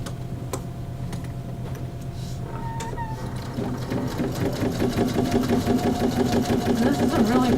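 Sewing machine stitching a quilt, a quiet mechanical hum with light ticks that builds after a few seconds into a loud, fast, steady rattling run up close.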